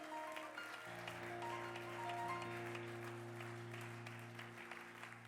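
A church congregation breaks into sustained applause, hands clapping together in a dense, steady wash over a held organ or keyboard chord in a worship service.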